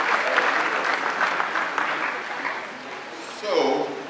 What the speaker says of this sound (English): just give them a round of applause, please